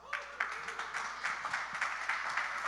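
An audience claps for a speaker at an esports partnerships panel, steady light applause from a modest crowd, even and sustained throughout, heard at some distance in a conference room.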